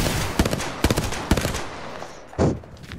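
Gunfire rings out in Apex Legends, three sharp shots spaced evenly about half a second apart, followed by a heavier burst a moment later, loud and close with no talk over it.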